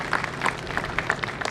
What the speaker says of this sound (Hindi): एक बार जोरदार तालियां पुष्कर शर्मा जी के लिए